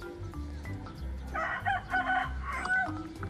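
Rooster crowing among a group of bantam chickens, a drawn-out crow rising in the middle of the clip with a second crow following, close and fairly loud over low background rumble.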